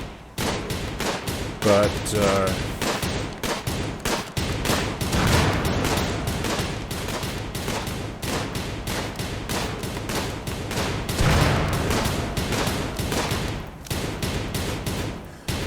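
Rapid gunfire from shooting animals in the game Rimworld, a dense stream of sharp shots repeating steadily throughout, loud and close, with a voice speaking briefly over it.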